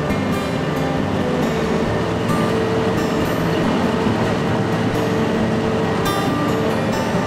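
Steady, loud engine drone and rushing water noise aboard the Caladesi ferry crossing St. Joseph Sound past Hurricane Pass, continuous throughout with brief splashing bursts and no voices.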